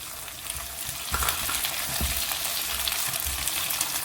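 Tomatoes dropped onto golden fried onions in a hot pan, a close, steady crackling sizzle with a few soft thuds and scrapes as they land, no voices.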